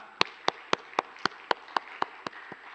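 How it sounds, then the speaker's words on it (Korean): A church congregation claps in unison, giving about ten sharp, evenly spaced claps at a steady quick beat, fairly close and with no voices over them. "우리 하나님께 감사와 영광의 박수 올려드리겠습니다"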